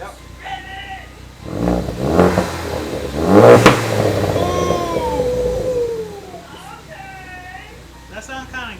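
Ford Focus ST fitted with an AWE Track Edition exhaust revs hard in a few rising bursts, close by, with people talking and calling out over it.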